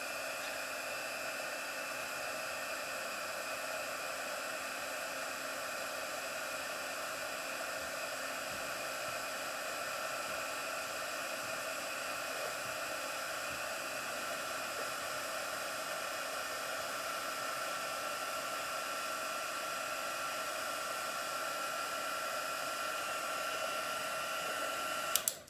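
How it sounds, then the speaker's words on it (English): A heat tool blows steadily for about 25 seconds to melt embossing powder on an autumn greeting card, a continuous loud whooshing hiss with a faint whine. It stays even throughout and cuts off abruptly at the very end. "And we'll heat this up and melt the powder."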